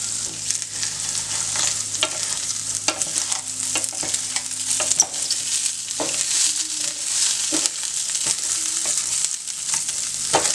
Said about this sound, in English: Now the oil is ready, we're gonna add the rice. You're gonna be stirring often.